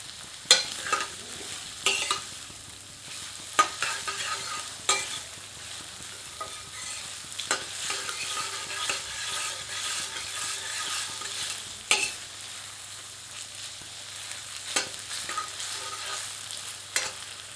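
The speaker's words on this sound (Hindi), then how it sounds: "मध्यम आंच पर प्याज को सुनहरा होने तक भूनते हैं।" Onions frying over medium heat in a pan for a spicy chicken masala, with a constant sizzle, punctuated by repeated scrapes and knocks of a spoon stirring them, close up.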